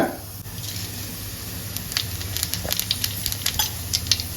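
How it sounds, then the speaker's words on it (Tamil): Fennel seeds crackle and sizzle in hot oil for tempering a goat bone and brinjal curry, soft steady frying hiss with scattered pops growing through the moment, no voices. "எண்ணெய் காய்ச்சிருச்சு சோம்பு போட்டுக்கலாங்க"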